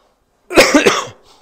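A person who has been ill with a severe cough for over a week coughs hard, a sharp burst of three or four harsh, throaty hacks close to the mic, fading into a breathy tail, with silence before.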